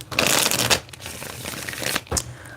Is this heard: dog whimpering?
no